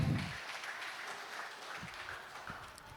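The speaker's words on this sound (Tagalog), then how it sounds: "Isang palakpak pa nga po para sa ating Panginoon." A church congregation claps after a worship song: a soft wash of scattered applause from the gathering, fading and fairly faint, with a few sharper claps standing out near the end.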